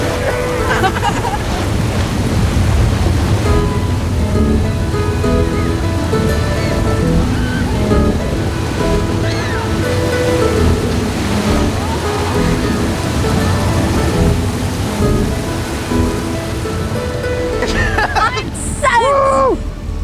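River rapids in the Grand Canyon surge and crash over a raft, a loud continuous roar of rushing water with excited voices talking and shouting over it throughout.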